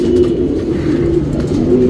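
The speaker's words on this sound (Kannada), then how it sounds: "ಸೂಪರ್ ಕ್ವಾಲಿಟಿಯಲ್ಲಿ ಇರುತ್ತೆ ಈ ಚೀನಿ ಹೆಣ್ಣು" A female Cheeni pigeon of gold shade coos nearby in low, rolling, repeated phrases that fill the short stretch steadily, with no voices over it.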